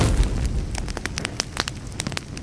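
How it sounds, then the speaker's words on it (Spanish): A campfire crackling up close, with sharp irregular pops and snaps over a low steady burning hiss. "Al calor de la fogata."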